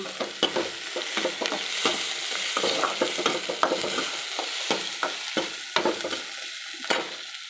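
Vegetables sauté with salt in a pan for a drumstick curry, giving a steady close sizzle broken by frequent scraping and stirring knocks of the spoon, with no voices.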